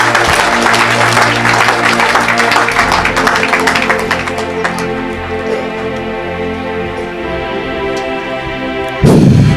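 A church congregation bursts into loud applause and cheering that fades out over several seconds, followed by quiet sustained musical tones and a sudden loud burst at the very end.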